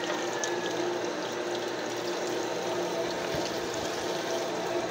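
An electric water pump motor runs steadily beside flowing water, a continuous hum under gushing, splashing water at close range, with no voices and no breaks in the sound.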